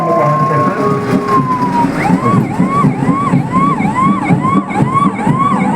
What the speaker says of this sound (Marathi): शहरातील आग नियंत्रित ठेवण्याचं काम हे अग्निशामक वाहन करतं